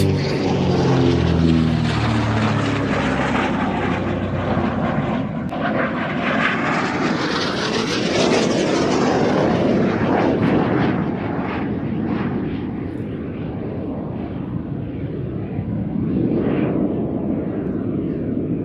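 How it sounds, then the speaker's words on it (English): An F-86 Sabre jet and a DH-88 Comet propeller aircraft flying overhead at an air show: a loud, sustained engine roar that swells and fades as the planes pass, with no talking. "right now we have two wonderful aircraft with the F-86 Sabre and of course the DH-88 Comet"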